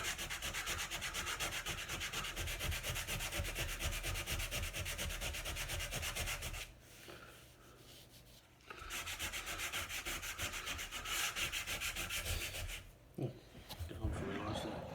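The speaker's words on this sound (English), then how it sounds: "sanding." Wood for a dining table is sanded by hand with sandpaper, giving a loud, rapid back-and-forth rasping that runs for several seconds, pauses briefly, then resumes in steady strokes.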